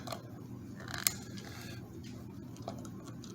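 Screws on a guitar tremolo arm being loosened give off faint, close clicking and small ratcheting ticks, with one sharper metallic snap near the start, over a quiet room.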